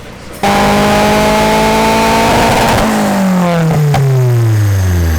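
Turbocharged SR-Z engine revving hard on a dyno, a sharp rise into a sustained loud roar with climbing and falling tones and whine, close and continuous without talk.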